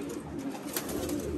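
Caged pigeons or doves coo softly and repeatedly, a close, low, steady murmur of several birds with no talk over it.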